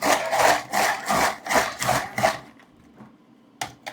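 A hand-crank rotary grater shreds cabbage with rhythmic, rasping scrapes, each turn giving a broad gritty burst for about two and a half seconds, then fading to a few quiet scratches and one short final rasp.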